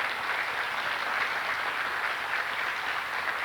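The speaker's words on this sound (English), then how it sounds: "Let's give our panelists a big round of applause and a big welcome" Steady, dense applause fills a workshop hall as the audience welcomes a panel at a historic preservation workshop on the Monterey Peninsula, broad even clapping with no talk throughout.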